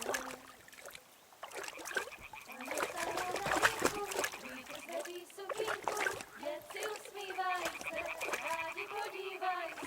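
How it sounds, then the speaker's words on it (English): In Kingdom Come Deliverance 2, a thrown stone splashes into water, a brief watery plop and splatter set against game ambience, with character voices talking over it. "Throw a stone in the water near her to lure her away."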